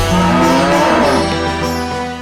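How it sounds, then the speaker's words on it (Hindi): A cow moos in a long, loud, sustained low call filling the whole moment, set in a pastoral scene with no talk over it. "गाय भी रंभा रही है"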